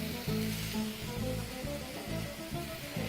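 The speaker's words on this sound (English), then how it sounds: "bit of oil into the other pan where we are about to saute our onions" Diced onions sizzle steadily in hot oil in a pan, with a continuous close crackle and soft scraping stirs for roasted tomato soup.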